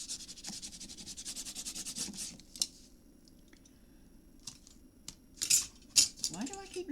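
Tape being burnished onto paper in a handmade memory book, a rapid rhythmic rubbing for about two seconds, then quiet handling followed by a few sharp crinkles and taps, close and moderately loud.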